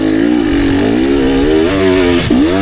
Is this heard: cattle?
no